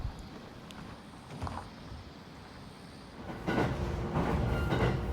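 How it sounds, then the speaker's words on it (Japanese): Train on the Joetsu Line in Japan, departing Doai station, rolling along the rails with a steady low rumble that swells louder near the end, with a few faint clicks and no speech. "13時49分土合発、15時29分長岡着の電車に乗っております。"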